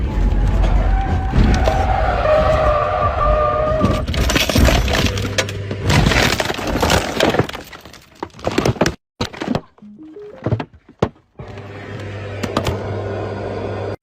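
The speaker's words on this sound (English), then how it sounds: "So apparently the car slid on the gravel and then flipped over like this." A car slides on gravel, flips over and crashes: a loud rumbling skid and tumbling impacts with breaking and thudding, then scattered knocks and a few sharp hits among quieter gaps.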